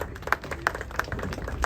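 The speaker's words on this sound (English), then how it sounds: "This deserves another big round of applause" A modest crowd gives a round of applause at a seafront marina property presentation, steady overlapping claps with a few sharper individual hits standing out, moderately loud and without speech.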